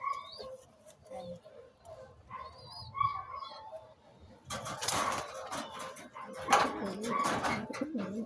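Pigeons in a home loft coo softly and intermittently, joined by louder rustling, flapping and chirpy calls in the second half, with some background voices and a dog whimpering nearby.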